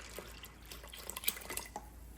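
Extra water, about two cups, is poured into a pot of red beans for chicken chili, giving a quiet, steady trickle with scattered small drips and splashes.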